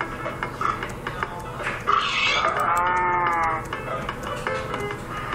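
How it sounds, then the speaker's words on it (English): A pig grunts and squeals in a short rising call over a steady background hum, with some scattered clicks and noise around it. "get the pig. Get the piggy."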